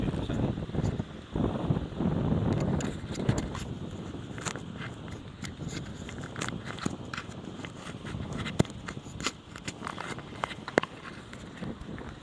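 Steady rumbling wind buffeting a SHORUSH N7 microphone fitted with a furry windscreen, muffled and continuous, with occasional soft knocks and handling bumps throughout.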